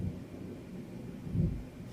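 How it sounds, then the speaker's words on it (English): Thunder rolls softly in the distance, a low continuous rumble that swells briefly near the end, with no voices over it. "Oh, thunder. Do you hear that in the background?"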